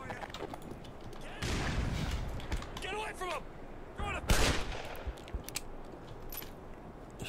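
Gunfire in the PC shooter Black Mesa comes as a few sharp, fairly loud shots with short bursts in between, under a player talking in German.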